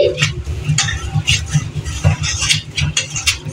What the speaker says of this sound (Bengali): বন্ধুরা, আমরা চালটা ধুয়ে নিচ্ছি